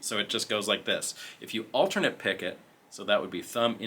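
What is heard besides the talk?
No distinct noise like a dog, phone or traffic.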